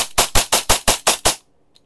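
KJW KP-19 airsoft pistol fired rapidly, seven sharp loud close shots in an even fast rhythm, then silence.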